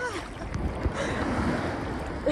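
Rough sea waves surging and breaking on a beach in Rhodes, a continuous churning roar of surf with wind buffeting the microphone, close and fairly loud, with no talk over it.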